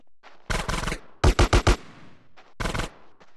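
Gunfire from the video game GTA San Andreas, played on mobile during the last mission: loud close bursts of rapid automatic shots in three clusters, with short gaps between them and no talk.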